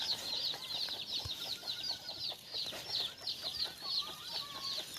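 A free-range country hen clucks softly while her roughly twenty chicks peep continuously in high, rapid chirps, all fairly quiet and close.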